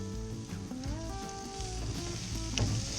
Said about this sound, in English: listen to that great sizzle as soon as the chicken hits the grill